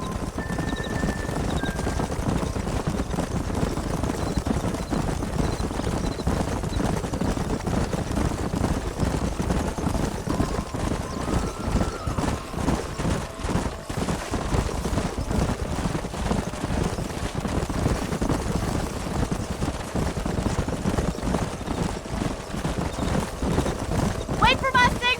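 Horses galloping in the video game Red Dead Redemption, a steady dense clip-clop of many hooves running on and on for the whole stretch, with the odd whinny and voices talking over it.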